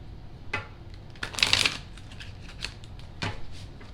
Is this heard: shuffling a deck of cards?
yes